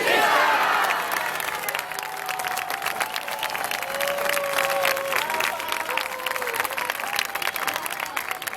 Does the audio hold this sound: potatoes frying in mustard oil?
no